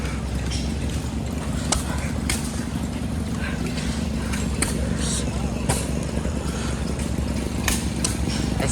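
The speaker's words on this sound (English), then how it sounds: "It's running. It's a big engine." A big hit-and-miss gas engine runs at a steam and gas engine show, giving a steady low rumble and chug that continues throughout alongside the outdoor crowd ambience.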